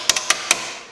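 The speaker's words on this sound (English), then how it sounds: "You can use a hammer, get it up in there, make sure it's flat against the plate" Four sharp metallic hammer strikes flattening a Jeep YJ body mount against a steel plate, uneven in spacing, close and loud with a brief ring after each blow.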